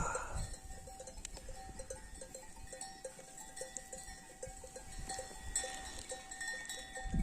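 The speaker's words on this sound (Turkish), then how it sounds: "Koyunlar da yayılıyorlar" Sheep grazing on a village mountainside, with faint bells clinking at intervals and occasional soft bleats in open air, distant and quiet, with no talking.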